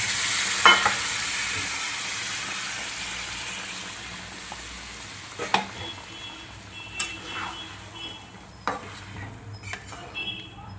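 Warm water poured into a hot pan of sautéed liver curry, giving a loud hissing sizzle at first that gradually dies down, with a few sharp utensil clicks against the pan.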